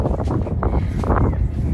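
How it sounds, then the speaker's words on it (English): Strong wind gusting outdoors in an open, scenic spot, a steady loud rush of buffeting noise against the microphone with no speech over it. "Y'all probably still hear the wind."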